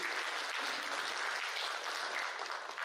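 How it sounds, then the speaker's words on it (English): A large audience at a bank town hall gives a sustained round of applause, a dense, even wash of clapping that fills the whole stretch without pause. "So you can again give a huge round of applause to us."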